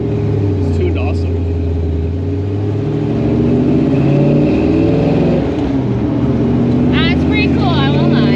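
Supercharged 1955 Chevrolet Nomad gasser with a rich-running carburetor, heard from inside the car as a steady, loud low engine drone that rises as it revs, with people talking over it.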